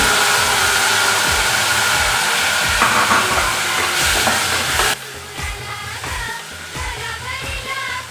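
Peeled val beans are sautéed in a pan, producing a loud, close sizzle with stirring scrapes. The hiss drops noticeably about halfway through, and the stirring clatter continues, with no speech.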